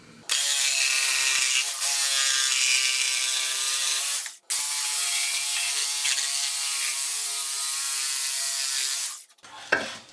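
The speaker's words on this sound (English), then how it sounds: "it's just a matter of doing the cut with the jigsaw" A jigsaw saws through a wooden push stick in two long, steady buzzing passes, loud and close, separated by a brief pause, with a short clatter at the end; no talking.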